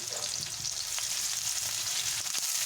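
Chopped onion sizzles steadily in hot oil in a pan after whole cumin seeds, frying toward golden brown for a fish roe curry, with a continuous close hiss and faint crackles and no talking.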